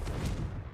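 A Confringo fire spell blasts in Hogwarts Legacy, one brief, loud, dense burst with a low, rumbling body that fades quickly.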